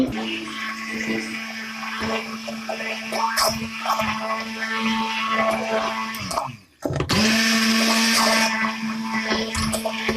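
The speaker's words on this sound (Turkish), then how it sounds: "ezilene kadar blenderdan çekiyoruz" A loud blender whirs continuously, pausing briefly near the middle before roaring back up, pureeing thick cooked squash for soup.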